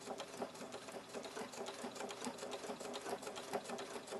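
A sewing machine runs steadily through bobbin stitching, the thread tension bypassed so loops form on top. The motor hums with a fast, even stitching rhythm that stays close and continuous, with no voices.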